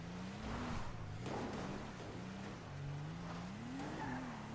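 In Grand Theft Auto V, a car engine revs hard while the car churns through mud, its pitch rising and falling in repeated surges and staying loud and close throughout.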